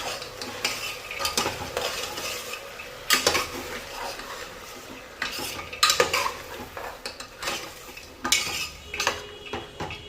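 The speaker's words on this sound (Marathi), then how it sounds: "छान सर्व मिक्स करून आणि 5 मिनिटं छान परतून घ्यायचं आहे सर्व" Yellow peas and peanuts are stir-fried in a pot over high heat for a spiced rice dish, with loud irregular metal spatula scrapes and clanks over a soft sizzle.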